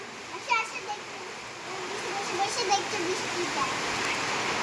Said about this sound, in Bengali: তো আমি এসেছি কেমন বৃষ্টি হচ্ছে দেখতে